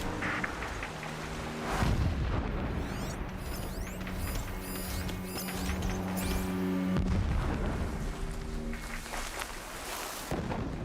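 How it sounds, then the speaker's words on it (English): Distant explosions boom in the Horizon Zero Dawn game world, heavy thuds and crashes rolling in amid rain-like noise and mechanical clatter, with a strong low rumble about two seconds in and another near seven seconds. "Explosions in the distance."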